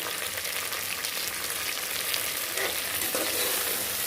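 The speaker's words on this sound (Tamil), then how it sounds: "இதை நல்லா வதங்கட்டும் ஃப்ரெண்ட்ஸ்" Mushroom biryani ingredients (mint, curry leaves, slit green chillies) sautéing in a pan, a steady close sizzle and frying hiss running continuously with light stirring scrapes, no voices.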